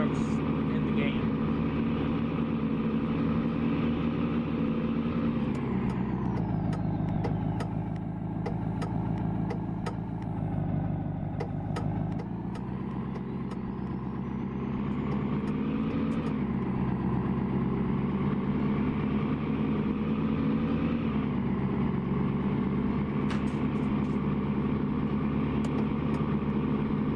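A Freightliner Cascadia truck in a roleplay driving game idles with a steady, deep diesel rumble that swells and eases slightly at moments, continuous throughout, with a voice speaking over it.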